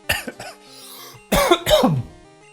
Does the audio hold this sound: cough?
yes